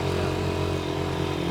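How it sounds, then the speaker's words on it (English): A youth Polaris ATV engine revs higher with the throttle opened as it carries more speed, giving a loud, steady buzzing drone throughout with no speech. "We can hear that the engine's revved up a little higher, and he's just carrying more vehicle speed."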